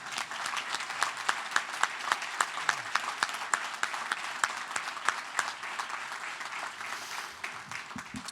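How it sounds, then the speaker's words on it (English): A crowd applauds steadily throughout at a military medal presentation ceremony, dense clapping with a few sharper claps standing out, continuing without pause. "ask for a round of applause for my wife"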